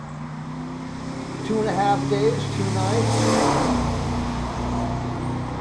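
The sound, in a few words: road traffic noise near a motorboat lake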